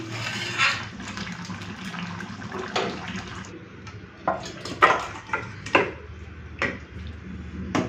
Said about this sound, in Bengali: এই যে সঙ্গে সঙ্গে লোহার কড়াই থেকে বাটিতে ঢেলে নিলাম